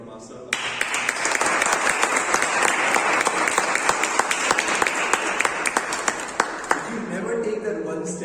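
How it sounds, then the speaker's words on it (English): An audience bursts into loud, sustained applause for the Best Role Player award winner. Sharp individual claps stand out in the crowd, and the clapping stops abruptly near the end, when talking resumes. "let's give a better round of applause to the winner of Best Role Player"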